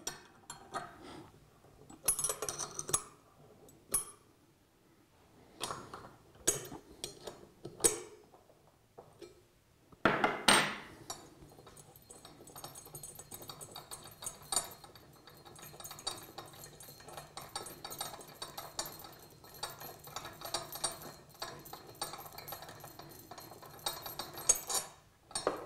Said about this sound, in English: We have two bolts at the side which need to be undone.